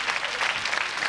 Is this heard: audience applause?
yes